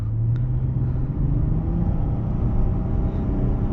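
A 2013 Chrysler 300 Touring accelerates, heard from inside the cabin as a steady, loud low engine rumble that holds level for several seconds with no talking.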